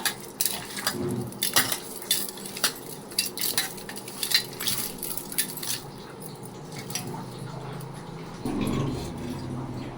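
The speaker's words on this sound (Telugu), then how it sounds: "ఇప్పుడు మిక్స్ చేసుకోవాలండి బాగా" Chicken pieces being hand-mixed with turmeric and chili powder in a bowl for chicken curry: irregular wet squelching, soft clatter and scraping of utensils against the dish, close and moderately loud, with no talking.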